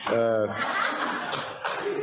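Rotary club meeting audience breaks into clapping, a loose, moderately close patter mixed with chuckles and a voice speaking over it.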